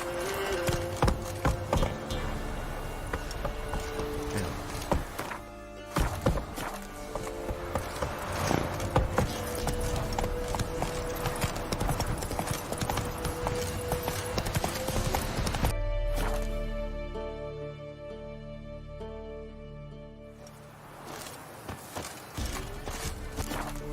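Geralt's horse Roach galloping in The Witcher 3, a steady run of hoof clip-clops under continuous game music and ambience, with a brief quieter stretch near the end.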